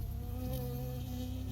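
A bee buzzes in the video game Firewatch with a steady, droning hum close to the listener that holds at an even level throughout, with no voices.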